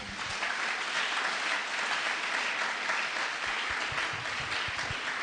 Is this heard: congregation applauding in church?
yes